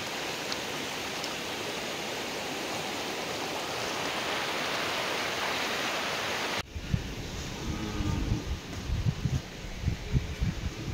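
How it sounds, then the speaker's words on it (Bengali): The swollen, fast-flowing Kobli river in flood near the Hojai–Tumpreng road gives a dense, continuous rushing roar, then turns to closer, rougher churning and splashing of turbulent water during the latter part. "দেখো গাইজ কবলি নদীর পানি ইলা জোর দিছে"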